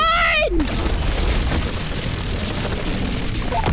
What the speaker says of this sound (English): Giant shotgun!